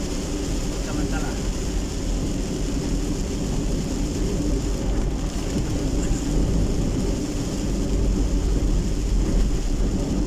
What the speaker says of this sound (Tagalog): Ayaw talaga tumigil ng ulan.